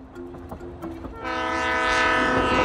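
A slow passenger train in China's Daliang Mountains rumbles and rattles past, its horn sounding in long sustained tones that build louder over the second half.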